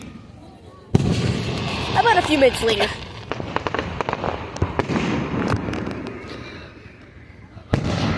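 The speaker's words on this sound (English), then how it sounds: "A little longer than normal fireworks." Fireworks burst through a show in the Sonic Adventure video game as a dense, steady stream of crackling pops and booms that runs for several seconds. Voices talk over the display.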